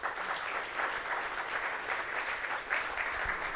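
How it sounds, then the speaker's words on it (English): An audience at an allteam 2023 thank-you event claps together in a steady, even patter of many hands, moderately quiet and continuous for a few seconds with no talk over it. "So can we clap for them?"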